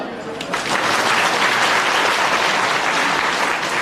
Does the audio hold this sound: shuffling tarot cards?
no